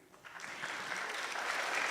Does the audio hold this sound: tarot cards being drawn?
no